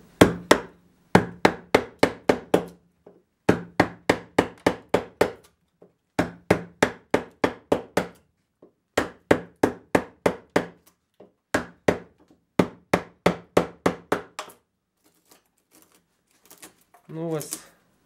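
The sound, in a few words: chisel cutting into oak wood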